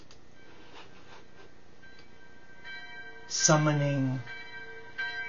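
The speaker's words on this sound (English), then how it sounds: "join me as we play the bells of peace" Bells rung in a celebration for Kuan Yin's birthday: one clear bell strike rings out loud and sustained over a quiet background, decaying over about a second, with a softer strike at the end and a voice speaking briefly earlier.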